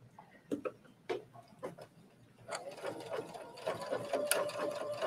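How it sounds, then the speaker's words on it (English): A sewing machine runs a short backstitch to secure a stay stitch on a trench coat, starting with a few separate clicks and taps, then settling into a steady close mechanical whir. "I'm just gonna go backwards, just a stay stitch here."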